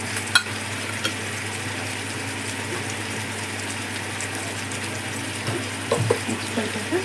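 Chicken sprinkled with turmeric for dum biryani fries in a pot, giving a steady even hiss of sizzling, with a few faint clinks and stirs near the start and end.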